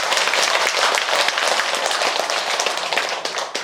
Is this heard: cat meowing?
no